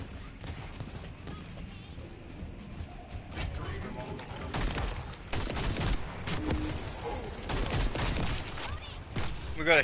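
Gunfire during a boss fight in The First Descendant rattles in rapid bursts that grow louder toward the end, with a voice talking underneath.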